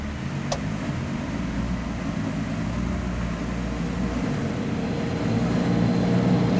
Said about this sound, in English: Okay, we're moving in the LaFerrari.